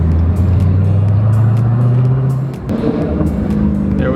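A Dodge SRT car drives along steadily, its engine a loud, continuous low drone that dips briefly before picking up again, with no one talking.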